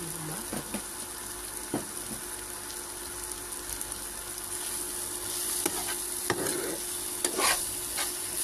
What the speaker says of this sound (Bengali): মরিচের গুঁড়ো অ্যাড করলাম। এগুলো দিয়ে এখন কষিয়ে নেব